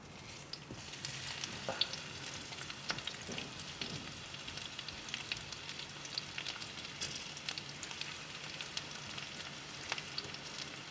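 Hot oil sizzling in a cooking pot before a salted queenfish fishbone curry: a faint, even crackle with scattered tiny pops, steady throughout and heard alone.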